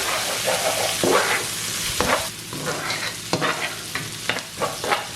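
Green chillies, curry leaves, onion and rampe sautéing in a pan for deviled fish, with a steady close sizzle and repeated sharp scrapes and clacks of stirring.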